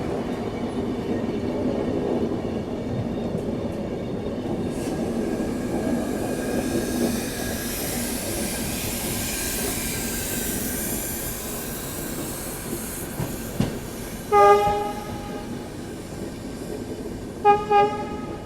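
From on board the Mumbai–Hapa Duronto Express, a steady rumble of the train running at speed while it overtakes the Gujarat Mail, with a few short horn toots near the end.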